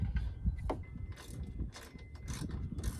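A bolt goes back into the cargo bed of a Polaris RZR Ace side-by-side during bed replacement, with quiet metallic clicks, scrapes and taps close by over a few seconds and no talking.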